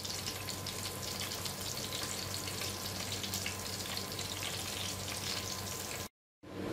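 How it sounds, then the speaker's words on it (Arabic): Seasoned beef searing in a hot pan, a dense steady sizzle close up that runs evenly throughout before cutting out abruptly near the end. "كده خلاص بعد ما حمرت العرق"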